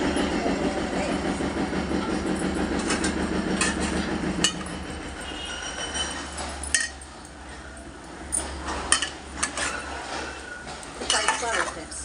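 Potato pieces go into a pan for aloo korma, clattering and scraping against the metal in a burst of uneven knocks after a stretch of muffled background noise with a faint voice.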